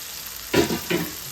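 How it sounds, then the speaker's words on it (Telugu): Washed prawns drop into hot oil over softened tomatoes for an okra-prawn curry, two quick bursts of sizzle rising over a low background hiss; no talk. "ఇప్పుడు మనం నీట్గా కడుక్కున్న రొయ్యలు వేసుకుందాము."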